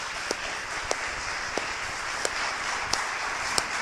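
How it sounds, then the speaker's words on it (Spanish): A church congregation claps for the pastor during a Sunday service: a steady, dense patter of hands with a few sharper claps standing out at a regular beat. "un aplauso para la pastora"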